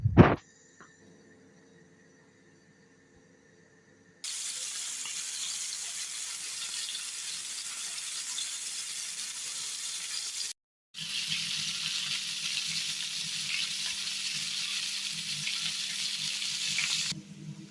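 Steady, close sizzling of flour-coated hake frying in hot oil in a pan, continuing for several seconds after a quiet start and briefly cutting out midway.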